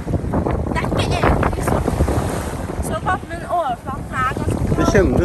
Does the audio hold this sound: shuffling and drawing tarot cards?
no